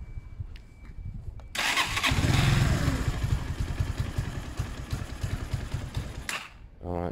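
Zontes 125 motorcycle engine on choke, starting up after a short crank and then running close and loud with a steady, slightly uneven idle that dips briefly near the end.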